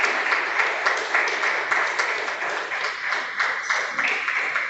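A church congregation applauds themselves, a lively burst of many hands clapping with a slightly pulsing rhythm, fairly close and steady throughout.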